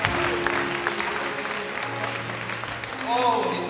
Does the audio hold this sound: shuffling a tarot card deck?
no